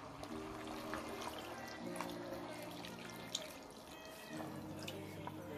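Water is poured into a pot of chicken in a salmorejo-style broth until it covers the meat, a steady close trickling and splashing that runs throughout with a low background hum.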